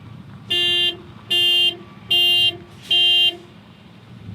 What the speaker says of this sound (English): So it beeps the horn, flashes the lights.